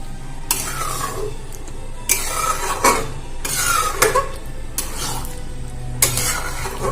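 A spoon stirs paneer curry with ghee in a pan, repeated scraping strokes against the metal in an irregular rhythm over a low simmering sizzle, close and clear, no speech.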